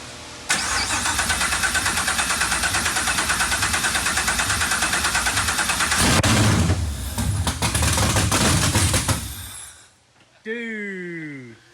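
An LT4-swapped 1967 Chevrolet Camaro SS cranks with a rapid chugging rhythm, fires up and settles into a loud, close idle, then cuts out while voices talk nearby.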